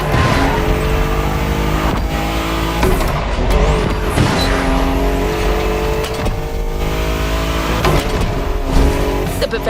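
A BMW Z4 M40i roadster drives hard in the video game The Crew Motorfest, its engine droning loudly and continuously, with brief squeals of the tires.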